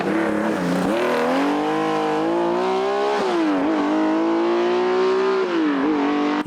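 A Porsche 935 Group 5 race car climbs a mountain hill course, its engine howling loud and close in a continuous high-revving drone that rises and dips through gear changes across the whole stretch.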